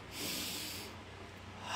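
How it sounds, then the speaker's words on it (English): One long, breathy exhale with an airy hiss, made to self-soothe. It is close and soft, then swells slightly at the very end, with no spoken words. "When you breathe out, you make the sound,"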